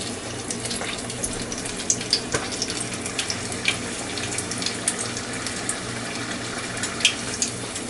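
Chimichangas deep-frying in a pot of oil, giving a steady close hiss with scattered crackles and pops throughout, no voices.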